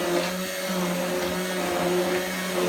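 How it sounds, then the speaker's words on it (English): A hand blender whizzes through bulletproof coffee in a steady, close, loud motorized whine that holds a constant pitch with slight wavering as it churns, with no talking over it. "this is why I like to do it with a hand blender, because I'm going to whiz and pour at the same time"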